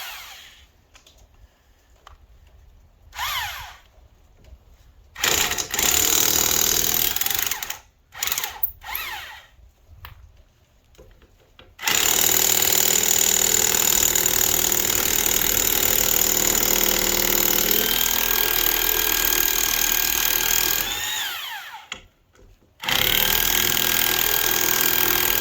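Craftsman electric impact wrench loosening 13/16 wheel nuts: short choppy bursts at first, then a long, loud continuous hammering whir that pauses briefly and starts again, close by.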